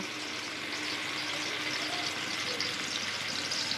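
Sliced onions sizzle and crackle steadily in hot oil on a stovetop as they fry down into crisp beresta, a dense, even hiss with no voices.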